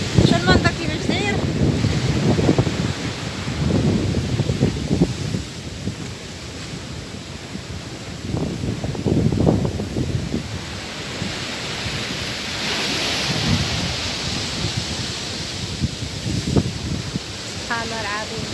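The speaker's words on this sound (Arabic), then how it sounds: "الموج خارج بيض" Sea waves and steady wind at Sidi Abed beach, with continuous surf wash and heavy wind buffeting across the whole stretch and recurring swells of breaking water.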